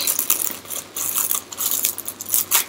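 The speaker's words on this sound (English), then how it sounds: "I enjoy the unwrapping bit so much." A mailed parcel is unwrapped up close, with bursts of crisp crinkling and rustling of packaging in quick irregular handfuls and no talking.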